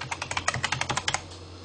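Fingers type quickly on a computer keyboard, about a dozen crisp close keystrokes in a rapid burst over roughly a second before fading to quiet.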